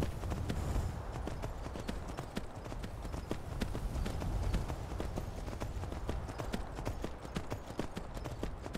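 Rapid hoofbeats of a galloping horse in a video game pound steadily and loudly throughout, with a dense rumbling backdrop and no talking.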